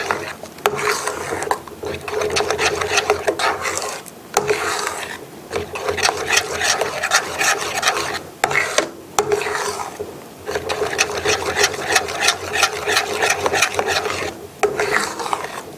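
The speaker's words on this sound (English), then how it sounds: "Just keep stirring the whole time because you don't want it to stick." A spoon scrapes and rubs against the bottom of a pot as a thickening, glossy mixture is stirred continuously, giving rhythmic rasping strokes with brief pauses, close and fairly quiet, with no talking.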